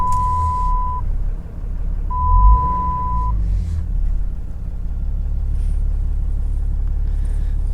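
A 2008 Dodge truck with a 6.7 Cummins diesel and nearly 290,000 miles idles with a steady, deep, close rumble, while two long electronic beeps sound early on.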